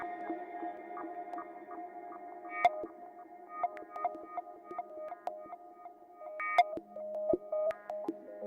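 A Eurorack modular synthesizer patch run through distortion, producing steady buzzing tones with a repeating pulsed, percussive rhythm and occasional sharp clicks, moderately loud with no talking.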